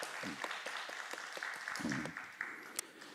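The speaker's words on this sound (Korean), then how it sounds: "우리 함께 하나님께 감사합니다 영광의 박수로 좀 돌려드리고 시작하겠습니다" A congregation claps steadily throughout at a church youth worship service, a warm, even wash of applause with a voice briefly audible underneath.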